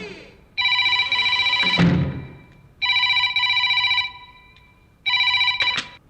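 A telephone rings in three electronic bursts with pauses between, loud and close; a brief clatter and low thump interrupt after the first ring.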